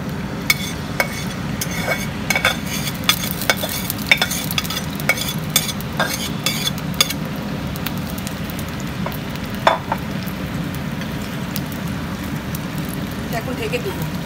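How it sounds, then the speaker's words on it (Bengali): Corica fish and potato chorchori fries on a tawa, giving a continuous sizzle with frequent clinks and scrapes of a utensil, while someone talks over the cooking. "মাছের চচ্চড়িটা, ওইটা এখন বসিয়ে দেব তাওয়ার মধ্যে।"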